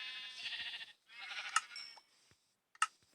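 Sheep bleating in the Minecraft video game, two drawn-out clear bleats followed by short clicky game sound effects, close and fairly quiet with no talking.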